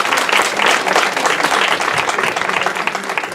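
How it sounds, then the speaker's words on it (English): Loud, dense applause from the audience at a women in power workshop, honoring a speech coach; steady, close clapping fills the whole stretch without a break. "So please give her a round of applause."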